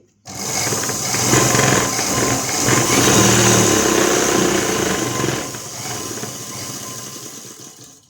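A sewing machine stitches fabric for a one-year-old baby's frock. The motor whirs steadily and loudly up close in one continuous run, then eases off to a softer hum before stopping.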